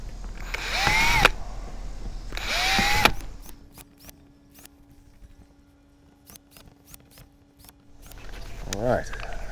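Power drill boring holes in a plastic kayak hull, two whining bursts that rise in pitch and then stop, followed by quieter clicks and handling and a short final whir; nearby and moderately loud.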